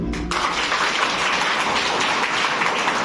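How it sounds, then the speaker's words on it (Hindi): Schoolchildren in a classroom clap for themselves in one dense, sustained burst of applause that fills the whole stretch, loud and steady with no talk over it. "आपने सच बोला इसलिए अपने लिए ताली बजाओ"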